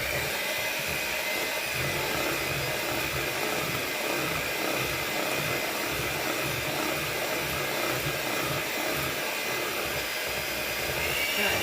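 An electric hand mixer beats coffee cake batter in a bowl, a steady close whirring drone with a faint rhythmic churn underneath, running unbroken throughout.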